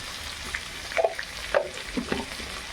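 Turmeric, chili powder and salt being stir-fried in a pan for a mung dal with fish head, a steady quiet sizzle broken by a few brief scraping strokes of a spatula.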